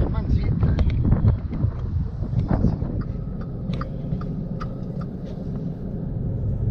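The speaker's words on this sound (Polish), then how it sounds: "bo nawet nie wychodzę, zerwał się wiatr" Strong, cold gusty wind on Tenerife, heard from inside a car, buffets the microphone with heavy low rumbling, loudest at first and then settling into a steadier blustery roar.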